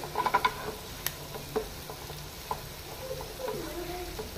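A pan of Goan-style fish masala being stirred with coriander powder, giving a soft sizzle with light scraping and clinks of the spoon, busier at the start, moderately close and without talk.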